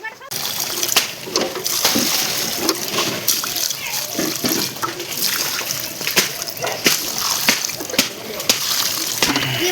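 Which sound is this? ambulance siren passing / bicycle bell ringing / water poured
water poured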